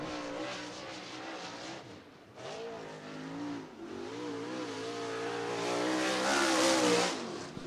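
A late model race car laps Cottage Grove Speedway during qualifying, its engine roaring and rising in pitch as it powers through the turns, swelling louder as it nears.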